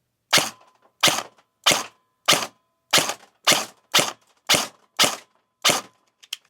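Ten evenly spaced sharp cracks from a Krytac MK3 airsoft gun fired in semi-auto with 0.20 gram BBs, each shot loud and close with a brief mechanical tail, no talking.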